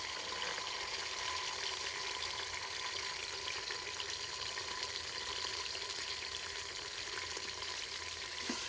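Finely chopped onions sizzle steadily in hot oil as the base for aloo palak, a continuous close, bright frying hiss with occasional stirring and no talk over it.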